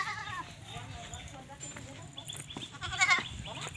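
Goats bleating at a relative's rural home, several short calls heard nearby over outdoor background and a voice talking.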